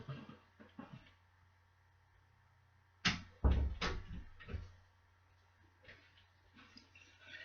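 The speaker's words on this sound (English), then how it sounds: "hold on, I'm gonna close the door." A room door swings shut indoors with a sharp, close thud and a brief rattle of handle or latch, followed by a few softer knocks and shuffles before the room goes quiet again.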